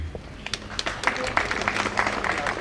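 A graduation crowd at Nairobi Technical Training Institute claps for award recipients, scattered hand claps that grow into fuller applause over a couple of seconds.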